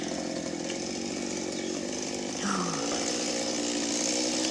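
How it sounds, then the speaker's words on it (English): A chainsaw drones steadily at a distance while cutting through a pine tree during tree removal, its engine pitch shifting slightly midway and rising a little louder toward the end. "Put the chainsaw on the belt"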